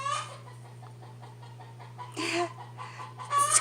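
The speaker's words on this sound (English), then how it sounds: "excuse the chickens" Chickens clucking in the background of an indoor fabric-tearing session, short bursts of clucks near the end over a steady low hum.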